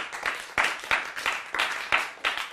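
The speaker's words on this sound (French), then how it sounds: "Acclamons Jésus pour ça." A church congregation claps together in praise of Jesus, a steady rhythmic beat of hand claps, loud and close, with no voices over it.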